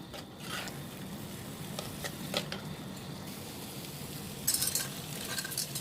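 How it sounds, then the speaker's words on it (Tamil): Cleaned crab going into a clay pot of sizzling masala curry, a steady soft frying hiss with a few light clatters of stirring and one brighter sizzle burst near the end, fairly quiet with no talking. "நம்ம இப்போ க்ளீன் பண்ணி வச்சுருக்கிற நண்டை இதில் சேர்த்துடலாம்."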